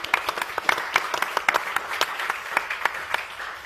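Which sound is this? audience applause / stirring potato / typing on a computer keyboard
audience applause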